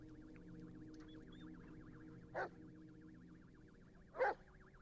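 A dog in the horror game Blair Witch gives two short barks a couple of seconds apart, set over a quiet wavering ambient tone.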